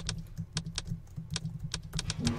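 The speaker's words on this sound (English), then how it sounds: "I'm gonna type in" Quick, light clicks of typing on a computer keyboard in irregular bursts, close and quiet, with a low steady hum underneath.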